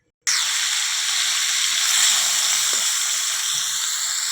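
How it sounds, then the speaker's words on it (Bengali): Prawns dropped into hot oil in a pan, setting off a sudden loud, close, hissing sizzle that starts abruptly and then holds steady and even to the end. "এবারে চিংড়ি মাছগুলো ভেজে নেব।"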